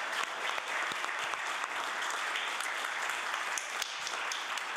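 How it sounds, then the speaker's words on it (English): Students from Aspatagan Consolidated Elementary School applaud themselves in the House of Assembly, a steady dense clapping from a group that fills the whole stretch at moderate level with no talk over it. "Yes, you can clap for yourself."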